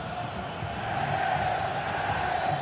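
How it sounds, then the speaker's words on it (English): A football stadium crowd in a video game roars in a steady, dense murmur of thousands of voices, sustained and fairly loud throughout, with no distinct chants or single voices. "just listen to this crowd."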